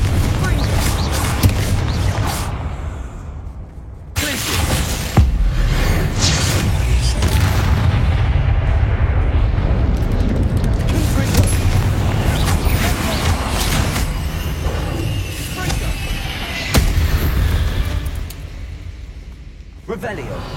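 Confringo blasting spells explode in a Harry Potter video game, with loud deep booms and rumbling blasts that roll on almost continuously, flanked by a few brief quieter gaps.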